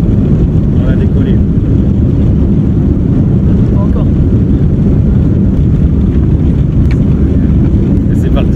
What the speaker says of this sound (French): On a décollé.